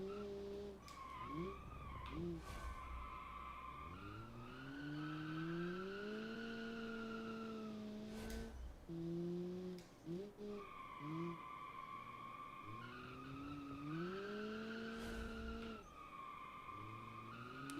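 Turbocharged 1.4-litre inline-four car in BeamNG racing, with engine tone rising and falling through gear changes and tires squealing and skidding through corners, steady and fairly close.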